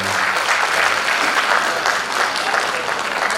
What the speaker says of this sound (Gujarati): એક વખત દિનેશભાઈ માટે અને પરિવારને જોરદાર તાળીઓથી વધાવીએ.